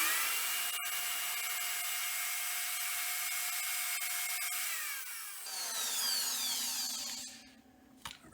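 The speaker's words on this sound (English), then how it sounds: "Let's see what happens when I pull the drill on." An electric drill powered by a solar setup at an old log cabin whirs steadily at close range, then shifts pitch as it slows and winds down toward the end.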